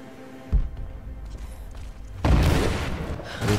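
Explosions in the action game Rise of the Tomb Raider: a sudden deep boom followed by rumbling, then a second louder blast with sustained roaring debris noise.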